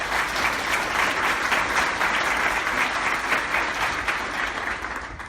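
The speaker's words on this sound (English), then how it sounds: "we can give them a round of applause" Audience applause at a Sutherland Bipolar Center breakfast honoring the center's staff, a dense, steady wash of many hands clapping that holds at full strength for the whole stretch and eases slightly near the end.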